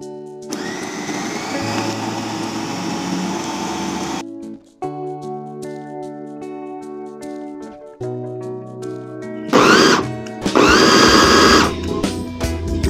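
Electric blender grinding roasted peanuts into homemade peanut butter, a loud steady whir broken by short pauses and restarts, with bursts of harder, coarser grinding near the end.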